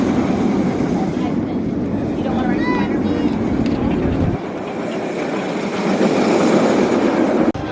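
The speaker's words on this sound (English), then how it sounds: "Here another train comes." A theme park ride train passing near a queue line, with a loud continuous rumble, wheel clatter and a brief squeal as it goes by, then the noise drops off; people talk faintly in the background.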